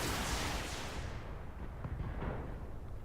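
BattleTech mechs fire all their weapons at once, giving a heavy burst that opens with a strong blast and trails off into rumbling impacts and crackles.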